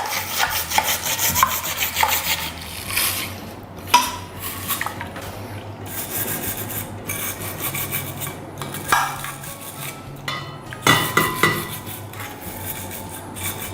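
A bottle brush scrubbing Angel Juicer cold-press juicer parts, a continuous rough rubbing and scraping with brief knocks and pauses, close and without talk.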